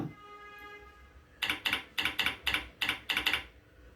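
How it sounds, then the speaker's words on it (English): Fingers tap a computer keyboard at a command prompt, a short run of about eight crisp, close keystrokes in a steady rhythm following a moment of near quiet, with no voices. "at the command prompt, type print v2 minus v1 and press enter"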